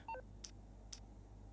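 A quick two-tone phone keypad dial sound in the video game GTA 5 Online, followed by three short, evenly spaced high beeps about half a second apart, faint over a low background hum.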